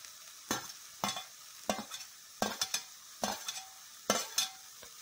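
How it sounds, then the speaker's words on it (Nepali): Cabbage and green onion fry over a low flame for a cabbage egg fry, a soft background sizzle broken by about seven sharp spatula scrapes and stirs in an irregular rhythm, close up with no voices. "लो फ्लेममा 1 मिनट जति भुट्ने। यसलाई हामी लो फ्लेममा भुटिरहेछौँ।"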